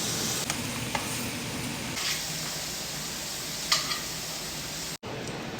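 Shrimp sear in a hot pan for a lemon shrimp pasta, giving a soft, constant sizzle and hiss with a few faint clicks of movement over it and no voices.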